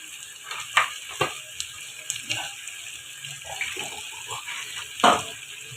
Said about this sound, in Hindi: अब हम इसमें थोड़ा सा पानी ऐड करते हैं